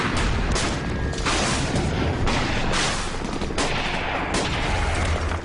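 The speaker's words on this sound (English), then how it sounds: "The first phase of this war was the bombing of Afghanistan." Bombing and gunfire in archival war footage of Afghanistan: a loud, dense, continuous roar of blasts and rapid shots with no voices.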